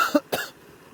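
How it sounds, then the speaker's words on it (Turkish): A single sharp cough from someone ill with COVID-19, close and fairly loud, followed by a quieter throat sound, then near silence. "Öksürüyorum falan"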